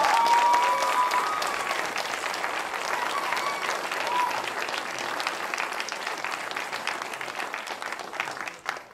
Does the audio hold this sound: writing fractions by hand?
no